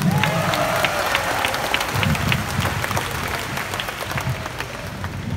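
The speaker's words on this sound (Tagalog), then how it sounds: "Pumalakpak ang lahat ng anak ng Panginoon." Applause fills a crowded hall, a gathering at Cuneta Astrodome, with steady clapping from many hands throughout and a faint rise of cheering.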